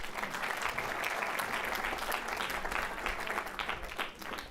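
Audience applause at a symposium on the landscape and cultural heritage of Saba, a steady, dense wash of many hands clapping that holds evenly throughout and tapers slightly at the end.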